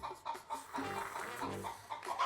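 Laying hens clucking close by in a short burst of repeated, throaty bursts with a few brief gaps between them.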